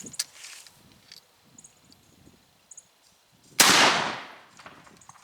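A single sharp .45-55 Government carbine shot loaded with 2F black powder cracks out loud and close, then trails off in a long rumbling decay. Faint ticks and rustles come before it.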